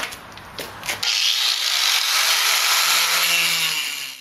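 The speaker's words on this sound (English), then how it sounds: "after quite a bit of cutting, it's not easy with this grinding wheel" A grinding wheel cuts a 5-inch hole through shower tile, giving a loud continuous abrasive whine that starts after a second of light scraping and holds steady close by.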